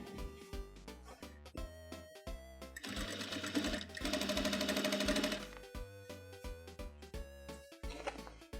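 A sewing machine stitches the taken-in side seam of a pair of jeans, its close mechanical whir running in short bursts and one longer steady run, with no one talking.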